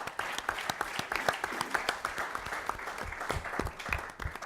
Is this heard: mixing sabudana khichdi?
no